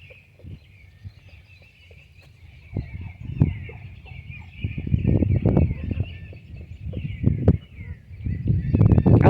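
Chickens, a rooster with his hens, cluck and call while foraging for bugs outdoors in spring, with scattered near clucks growing busier and louder over a faint steady wash of distant birdsong.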